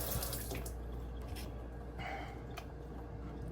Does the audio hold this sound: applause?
no